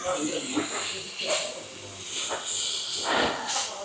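Food sizzling on a hot plate at a restaurant table near the Nürburgring, a soft hiss with bursts of crackle rising and falling under close talk.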